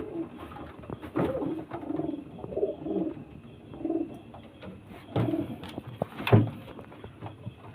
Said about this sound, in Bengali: দেখুন খুব সুন্দর পায়রা